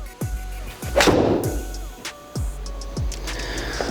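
Golf shots with driving irons, a Honma TW20 and a TaylorMade P790 in the 2- and 3-iron range, striking balls: about five sharp, loud impact cracks spaced roughly half a second apart, with steady background hum and no talking.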